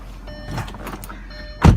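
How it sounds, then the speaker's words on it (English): A high electronic chime tone from a 2007 Audi Q7 4.2 quattro holds steady under a quiet hum, with a soft thunk near the end. "Back to the beeping."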